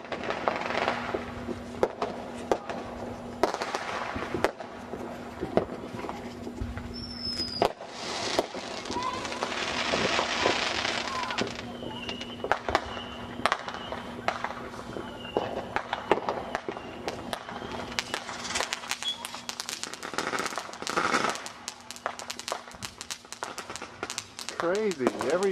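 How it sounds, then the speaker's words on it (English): Neighborhood fireworks burst all around a suburban cul-de-sac area at night, with many sharp cracks and pops at varying distances and some whistling rising shells, while people talk over the noise. "every cul-de-sac is shooting fireworks"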